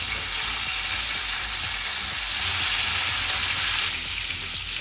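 Garlic and dried chilies frying in a pan for a hilsa fish vorta: a steady, loud, hissing sizzle of hot oil throughout, with faint stirring and no talk.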